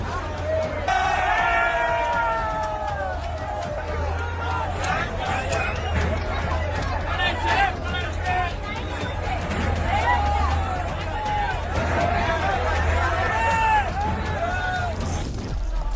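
Large crowd of hundreds of protesters in Dhaka, gathered outside the airport at the Mujibur Rahman memorial while JCB excavators and bulldozers tear it down, a dense continuous roar of shouting voices with steady low rumble beneath.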